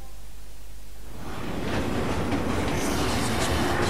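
Train from the video game Final Fantasy VII Remake moving along the tracks, a loud rumbling roar that swells in after a quieter opening second and then holds steady, with no voices.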